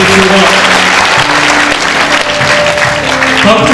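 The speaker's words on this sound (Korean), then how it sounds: "큰 박수 부탁드리겠습니다." A large audience claps steadily at a Bareun Party leadership convention, loud continuous applause filling the hall for several seconds without pause, with faint voices mixed underneath.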